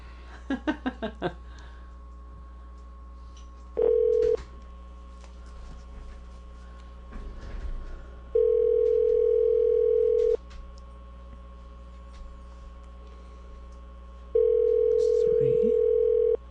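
A telephone call is placed: a quick burst of dial tones, then long, steady ringing tones repeat with pauses between them, clear and loud, while people murmur briefly in the gaps.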